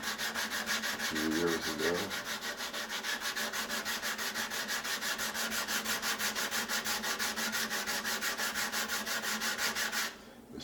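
Sanding by hand with cheap Chinese 180-grit emery paper during restoration of a historic Harmony Sovereign acoustic-electric guitar: a steady, rhythmic back-and-forth scratching that continues close and loud for about ten seconds, with a brief voice early on.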